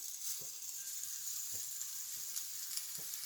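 İnegöl köfte meatballs sizzle quietly in an unoiled cast iron pan, a soft, steady frying hiss punctuated by a few faint scrapes or taps.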